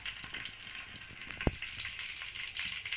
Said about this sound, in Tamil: கடுகு வந்து நல்லா பொடிஞ்சு வரட்டும்.